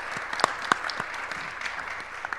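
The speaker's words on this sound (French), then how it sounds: "cette fois-ci on peut vous applaudir pour la deuxième fois pour certains" Audience applause at a French conference on resilience, a steady wash of many hands clapping with a few sharper claps standing out, moderately distant and continuous throughout.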